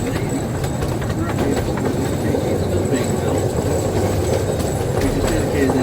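A train runs along the rails with a steady rumbling roll and faint clicking of wheels, heard from on board at constant loudness with voices in the background.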